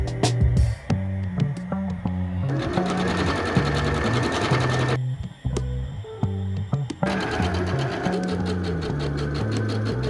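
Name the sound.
sewing machine hemming a skirt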